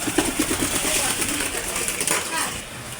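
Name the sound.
pigeons cooing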